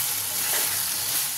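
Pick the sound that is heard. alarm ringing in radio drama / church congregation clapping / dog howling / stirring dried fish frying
stirring dried fish frying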